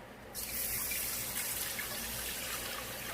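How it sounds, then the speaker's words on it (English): Potato water and chicken stock poured into a cooking pan for chicken pot pie, a sudden steady gushing stream that starts abruptly and keeps flowing evenly, close and moderately loud with no talk. "So now I've got this delicious potato water and the stock that I made from boiling the chicken. And I'm going to pour it right in there."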